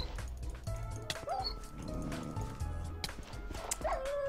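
A pack of dogs barks and yips in a Minecraft Regrowth modpack game, several short barks and whines scattered over a steady background of game sounds.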